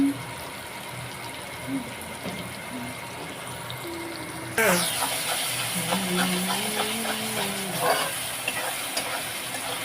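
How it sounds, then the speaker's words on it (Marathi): Ginger, garlic, onion, tomato and curry leaves stirred in a hot pan for tomato chutney, a steady sizzle and steam hiss that jumps louder midway, with scraping stirs and a voice speaking over it. "अद्रक लसूण कांदा टमाटर आणि कढीपत्ता मस्त मिक्स करून घ्यायचा"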